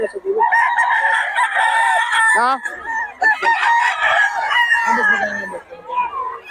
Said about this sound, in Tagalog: Mga manok ni Boss Jun